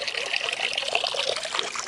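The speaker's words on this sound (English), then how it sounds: "Now that I'm watering my flowers" Water trickles and splashes steadily onto flowers being watered, a close, bright, continuous dribbling with no voices.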